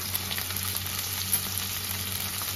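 Chopped tomato, slit green chillies, ginger-garlic paste and cumin powder fry in a pan for fish head masoor dal, giving a steady, close crackling sizzle with faint stirring scrapes throughout and no talk.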